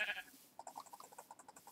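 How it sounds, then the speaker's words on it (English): A sheep bleats in a Minecraft world, one short high call followed by a rapid series of small clicky blocky game sounds, faint and alone. "Why is the sheep on my house?"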